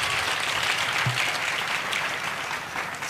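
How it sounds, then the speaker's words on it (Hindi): A crowd at a Hindi comedy poetry gathering claps for a poet, a dense continuous wash of applause filling the whole few seconds at even loudness, with no voices over it. "एक नंबर पर तालियां बजाएं एक नंबर के कवि के लिए"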